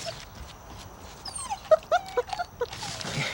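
Captive-bred wolf pups whimper and yip close by, giving a quick cluster of high, squeaky cries over a soft background rustle.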